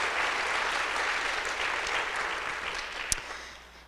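A seated audience at a conversation event applauds warmly, a dense steady wash of clapping that holds at full strength before tapering off near the end, with one sharp louder clap standing out.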